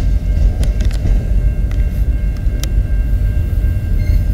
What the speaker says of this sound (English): we got a Herzog work train coming into the London yard